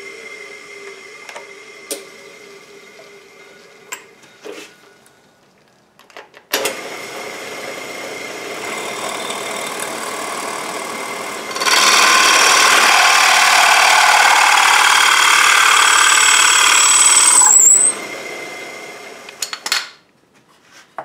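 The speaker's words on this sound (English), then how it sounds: "got all those holes drilled" A power drill bores a series of holes in wood for a shop storage build, a loud steady whine lasting several seconds after shorter bursts and clicks, with a brief high squeal near the end.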